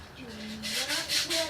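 Sandpaper rubbing back and forth inside a cylinder bore of a Chevy 350 engine, a close, scratchy friction sound that starts soft and grows into several louder strokes, with a faint tonal hum underneath.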